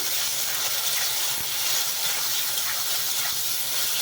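Water poured into a hot pan of spiced potato and eggplant sends up a loud, continuous steamy hiss that stays even throughout.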